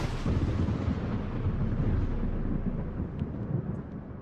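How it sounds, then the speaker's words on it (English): Loud thunder from a horror video game opens with a heavy booming crack and then rolls and rumbles, slowly fading over several seconds with no speech. "lightning was quite loud"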